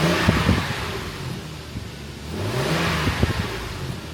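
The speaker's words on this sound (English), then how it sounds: "I'm gonna insert a cold start right here." A Lexus IS300 engine fires up from cold with stock, very quiet exhaust, giving a short revving burst, a brief dip, then a second rise into a steady fast idle, close and fairly loud.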